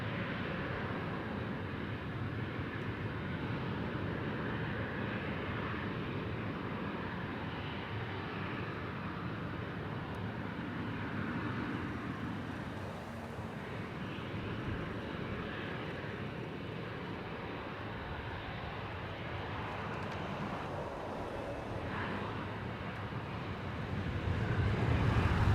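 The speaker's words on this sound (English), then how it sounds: "Pulling on to runway 25 here at Sydney. Velocity 957 bound for Brisbane." Velocity 957, an airliner bound for Brisbane, sits on runway 25 at Sydney, its engines a steady, fairly distant broadband roar that swells slightly near the end.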